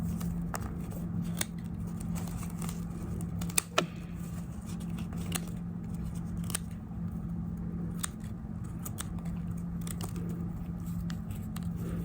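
Scissors snip repeatedly at the loose ends of a handmade straw sandal during a rice-straw craft class, sharp crisp cuts scattered at an irregular pace over a steady low background hum.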